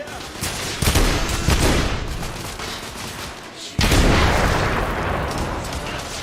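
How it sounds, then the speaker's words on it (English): Shotgun blasts at point-blank range in the video game The Order 1886, two loud booming shots with dense, noisy roars that decay slowly, amid continuous battle clamor. "Bro, I'm point blank with a shotgun."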